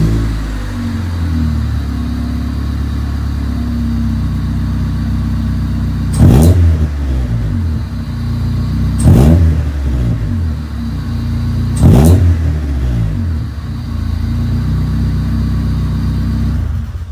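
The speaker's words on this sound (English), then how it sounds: "So here's a clip of it revving." A Honda Del Sol engine idles steadily, then revs sharply three times at even intervals, each rev rising and falling back to a rumbling idle, loud and close.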